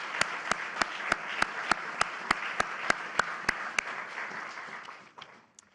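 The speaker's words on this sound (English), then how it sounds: "Let's have a round of applause for the great staff" Crowd applause at a White House bill signing fills the room with steady clapping and sharp regular claps on top, then fades out at the end.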